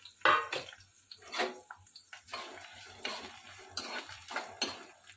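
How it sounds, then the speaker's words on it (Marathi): Onion and green chili stirred in hot oil over a full flame: a spoon scrapes and clanks against the pan in irregular bursts, with soft frying underneath, close by and with no talking. "तेलामध्ये मी आता कांदा आणि मिरची घातलेली आहे"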